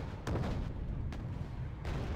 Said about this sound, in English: Oh my gosh, my artillery.